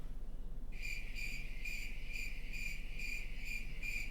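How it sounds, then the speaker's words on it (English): Crickets chirp in fast, even pulses that start abruptly after a moment of quiet, then carry on steadily and softly over a faint low hum. "crickets."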